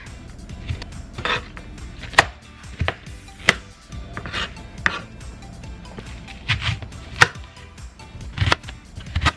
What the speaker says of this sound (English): I'm gonna cut the squash into more smaller pieces because these are just too big for lasagna.